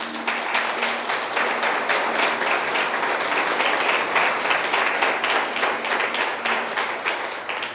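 A church congregation claps loudly and steadily, a dense wall of applause that holds at an even level throughout with no speech over it.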